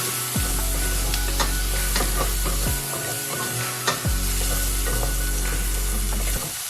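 Ingredients caramelize in a pan for chicken marsala, giving a loud, continuous sizzle broken by several sweeping scrapes of a utensil stirring across the pan, with no one talking.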